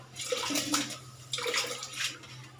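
Water runs from a tap in a home kitchen as a steady, soft splashing stream, fairly faint and unaccompanied by talk.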